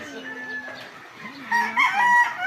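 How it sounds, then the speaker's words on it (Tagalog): Several chickens cluck and a rooster crows loudly nearby, with overlapping calls growing busier toward the end. "ang dami namang manok"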